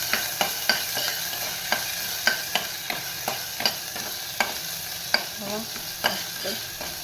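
Ginger and green chilli paste sautéing in ghee for a buttermilk kadhi, a steady close sizzle punctuated by regular sharp taps and scrapes of a spoon against the pan.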